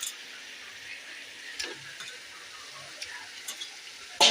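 Chicken pieces and softened tomatoes are stirred in a pan for chicken biryani. A low, steady sizzle runs throughout, broken by a few scattered scrapes and clinks of the spoon and a sharper knock at the end.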